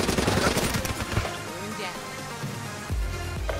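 Rapid gunfire in Black Ops 3 multiplayer, bursts of automatic shots crackling at the start and again near the end, fairly quiet under game noise.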